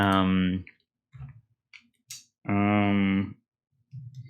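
Computer keyboard typing, with short clicking bursts in the gaps between a man's speech, which dominates the clip.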